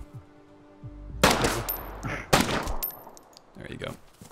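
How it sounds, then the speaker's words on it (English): Gunfire in the video game DayZ Standalone: two loud, sharp bursts of shots about a second apart, with a quieter shot shortly after, following a stretch of near silence. "Alright, we need to finish him off. Yes. I'll shoot him in the foot."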